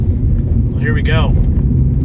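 A Subaru Outback drives along a road with a steady low rumble of engine and tires from inside the cabin, and a voice briefly speaks over it.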